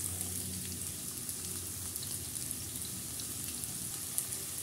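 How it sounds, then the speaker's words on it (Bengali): Sliced onions sizzle steadily in a hot pan with faint scraping as they are stirred, a soft, even frying hiss with no voices. "পেঁয়াজগুলো খুব ভালো করে নাড়াচাড়া করে নিব।"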